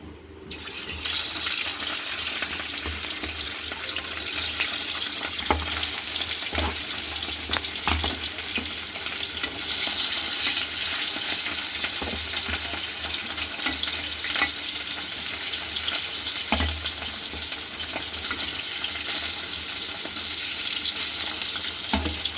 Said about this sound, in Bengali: মাছগুলোকে এবার ভেজে নিতে হবে